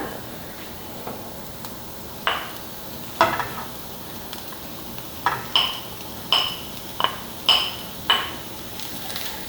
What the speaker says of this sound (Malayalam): ഇനി നമ്മൾ വേവിച്ച് വെച്ചിരിക്കുന്ന ചിക്കൻ ഇതിലേക്ക് ചേർത്ത് കൊടുക്കാം